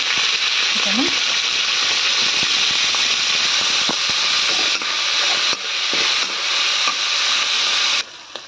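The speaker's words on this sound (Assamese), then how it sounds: "প্ৰথমতে মই চিকেনখিনি ভাজি লম" Chicken pieces fry in hot oil in a pan, a steady loud sizzle with faint crackles and occasional utensil clinks, continuing without pause before cutting off near the end.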